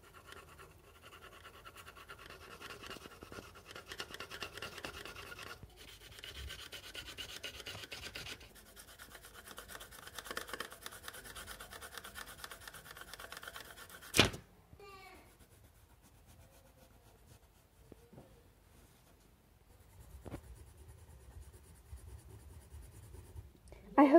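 Colored pencil scratches and rubs faintly but continuously across paper, with a sharper tap midway and quieter stretches toward the end.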